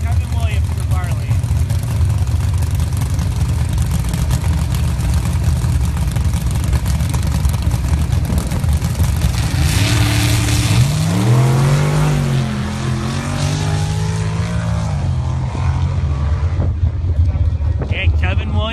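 Jeep engines at a drag race, a loud continuous roar with wind buffeting, then rising revs and a sweeping pitch climb as the vehicles launch and pull away, under ongoing commentary.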